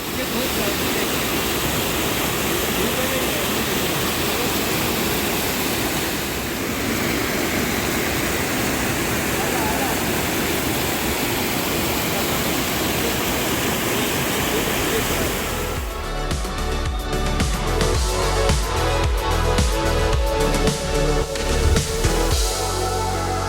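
Rushing water from a waterfall in Sharan Forest on a hike, a steady, loud broadband roar filling the whole stretch, growing denser and closer near the end.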